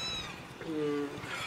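A cat meows once, a drawn-out, wavering cry up close, with faint background noise around it.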